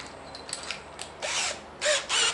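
A power drill in a shed bites into material in short bursts, whirring up and stopping between runs, with small clicks and mechanical rattles in the quieter gaps.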